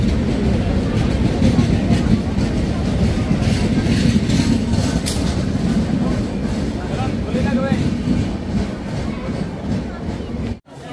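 Jan Shatabdi Express train pulling out of Ghatshila station, a steady loud rumble of rolling wagons with faint rhythmic clatter running throughout, heard up close with some background voices.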